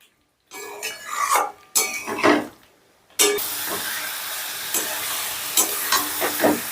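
Potato and pointed gourd frying with spices in a pan: short bursts of stirring and sizzle separated by brief silences, then a sustained loud hiss with occasional spoon scrapes, close up.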